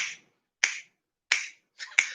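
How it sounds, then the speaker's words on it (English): Finger snaps, four crisp close snaps in a loose rhythm with short silent gaps between them, alone without any talking. "come on, everybody, and snap your fingers now"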